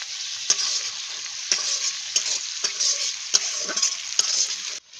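Grated onion frying with tomato paste in a pan gives a steady bright sizzle, punctuated by sharp periodic stirring knocks and scrapes, then cutting off abruptly near the end.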